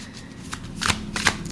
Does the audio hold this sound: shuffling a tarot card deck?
yes